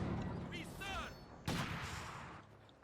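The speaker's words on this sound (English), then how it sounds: "Demo charge there. Dezman making good use of demo charges, by the way." A demo charge explodes in the World War II strategy game Company of Heroes 2, with a sharp blast at mid-clip amid battle noise and gunfire, preceded by chirpy game effects and a decaying rumble.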